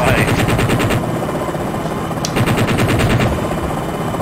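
An attack helicopter's cannon in Jane's Longbow Gold fires in rapid, steady bursts, loud and close, a continuous rattling chatter over a droning engine.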